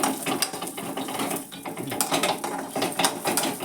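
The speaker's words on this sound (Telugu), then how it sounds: "పల్లీలు వేయించున్నాను." Peanuts roasting in a pan for coconut-peanut chutney, a busy rattling and scraping clatter of nuts shaken or stirred against the metal, close and continuous, with no talk.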